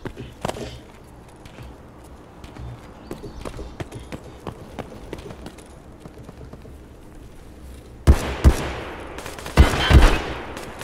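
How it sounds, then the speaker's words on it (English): Gunfire in Escape from Tarkov: scattered distant shots and cracks through most of the stretch, then a few loud, close bursts near the end, with faint movement sounds in between. "I hear bullets going on my head now."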